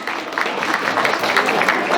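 Applause from guests at a family celebration, a steady dense patter of clapping lasting throughout, moderately loud and close with a little crowd murmur beneath.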